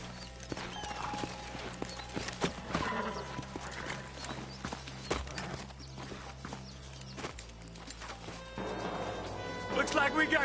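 Horses' hooves clip-clop in a cowboy video game, with uneven hoof strikes and thuds, bits of whinnying and louder clatter near the end, under game dialogue.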